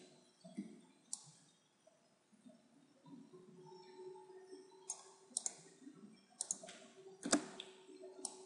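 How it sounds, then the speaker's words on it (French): Sharp computer mouse clicks come in scattered single taps and short bursts, quiet and close, in an otherwise still room while working in Cinema 4D. "je peux faire un CTRL et cliquer comme ceci"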